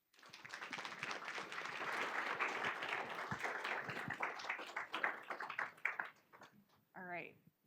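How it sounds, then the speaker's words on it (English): An audience claps for two presenters at a science lecture on Antarctic ecosystems, steady applause that thins into scattered claps and ends with a brief voice. "let's go ahead and give Alice and Kristen a round of applause."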